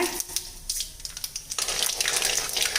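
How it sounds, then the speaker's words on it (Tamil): Mustard seeds and fenugreek sputter in hot groundnut oil in a kadai, a dense crackling hiss of tiny pops that grows busier and louder partway through. "வெந்தயம் நல்லா பொறிஞ்சு வருது"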